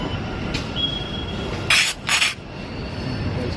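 Metro train running on rails in Bengaluru, a steady rolling rumble with two sharp bursts of high wheel squeal near the middle, close and fairly loud with no voices.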